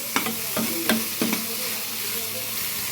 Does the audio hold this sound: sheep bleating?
no